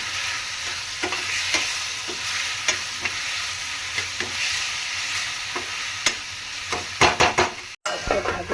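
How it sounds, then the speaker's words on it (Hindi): Peas and mushroom curry sizzles in a pan as garam masala, cumin and salt are stirred in, with a steady frying hiss, regular spoon scrapes and a quick burst of metallic clinks near the end. "थोड़ा गरम मसाला, थोड़ा जीरा, नमक डालकर इसको अच्छी तरह मिलाएंगे"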